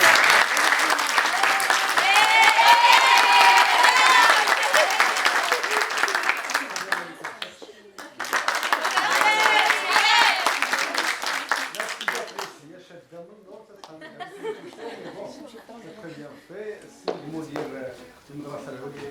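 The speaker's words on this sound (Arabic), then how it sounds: "حتى هي غادي نكون تصفيق عليها" An audience at a round-table gathering in Rabat claps in two long, loud rounds of applause, each stopping fairly abruptly, before a voice speaks over quieter room sound.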